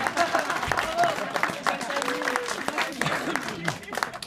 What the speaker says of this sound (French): je voudrais qu'on les applaudisse déjà